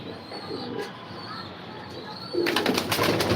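Racing pigeons in a loft give a few soft, low cooing calls close by, followed by a denser burst of fluttering and rustling near the end.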